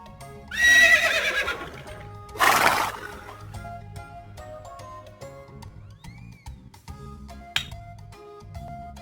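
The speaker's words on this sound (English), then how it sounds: "Horse." A cartoon horse on a children's farm gives a loud, shrill whinny near the start, followed by a second burst shortly after. Both calls sit over light background music.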